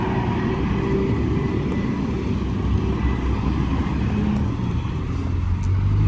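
Traffic on a quiet resort-town street in Yarovoe, Altai, in summer, a steady broadband road rumble and hiss with no let-up across the whole stretch.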